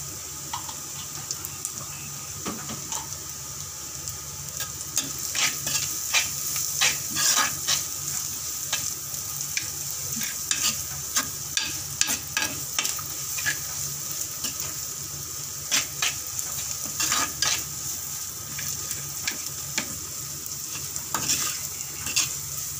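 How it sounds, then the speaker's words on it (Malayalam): Onions sauté with a pinch of salt in a pan, a constant sizzle broken by frequent scraping and clicking stirs with a spoon. The rhythm is irregular and close, continuing for a long stretch. "സവാള നന്നായിട്ട് വഴഞ്ഞു വരുന്നുണ്ട്."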